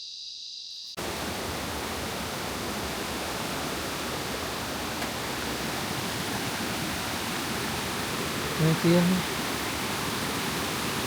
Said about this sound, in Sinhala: මේකට කියන්නේ දෙකල් දෝරු ඇල්ල කියලා.